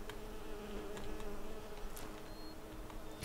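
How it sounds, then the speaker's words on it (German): Bees buzzing in the video game Skyrim, a steady dense insect drone throughout with faint ticking clicks scattered over it, no voices. "Es kann doch nicht sein, dass sie schon wieder Bienen sind."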